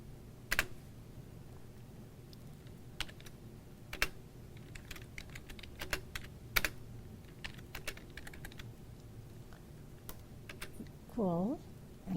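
Scattered keystrokes on a computer keyboard while entering C++ code, sparse and uneven clicks over a soft steady background hum, without any speech.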